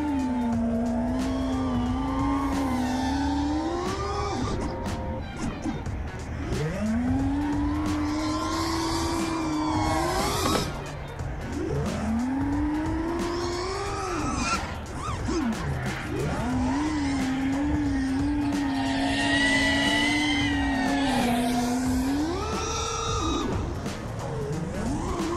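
FPV quadcopter drone motors running on Betaflight rise and fall in pitch through repeated full-throttle bursts, a loud whining buzz with swooping changes, continuous and heard from fairly near.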